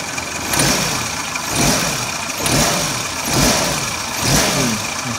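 A 2001 Suzuki Katana GX SJ410 engine is blipped from idle in five even, rhythmic revs, each swelling and falling back, loud and close with no talking.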